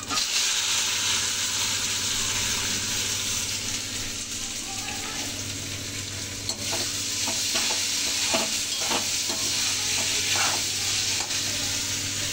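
Fried vegetables added to hot oil with fried lentil dumplings and stirred in a pan while cooking Bengali sukta, steady loud sizzling with scraping stir strokes and occasional clinks, little talk.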